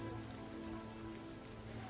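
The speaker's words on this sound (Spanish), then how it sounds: "En pleno periodo de sequía, el cielo responde con una lluvia mágica." Rain falls during a dry season in a steady, even patter that washes over everything, with a constant low hum underneath and no voices.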